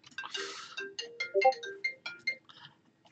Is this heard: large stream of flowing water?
no